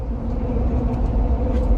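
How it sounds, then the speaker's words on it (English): Big aggressive tires on a Jeep Wrangler produce steady, low rumbling road noise from inside the moving vehicle, a continuous droning hum with no talk. "You can hear the road noise right now of the big aggressive tires."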